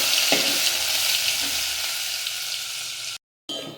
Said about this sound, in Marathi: त्यानंतर आलं लसूणची पेस्ट व्यवस्थित परतून घ्यायचे।